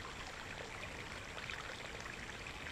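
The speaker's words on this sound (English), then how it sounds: "So all that water that went over the waterfall comes down the stream and ends up over here." Steady, continuous rush of a stream flowing below a waterfall on a nature trail at Paradise Springs, a broad even wash of water heard alone at moderate distance with no talk.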